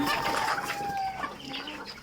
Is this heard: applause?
no